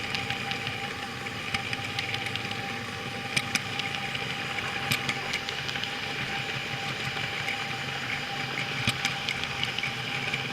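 Four small model train engines running together on a DCC layout, a steady low motor hum with a faint whine and occasional light clicks and rattles from wheels on track, fairly quiet and continuous.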